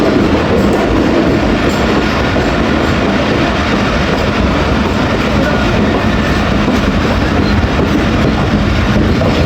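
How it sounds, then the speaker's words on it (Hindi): Train rolling slowly through Chaklala railway station, a loud continuous rumble of wheels and carriages with steady clatter and no voices. "15 किलोमीटर की रफ्तार को फॉलो करते हुए ट्रेन पास होती है चकलाला रेलवे स्टेशन से"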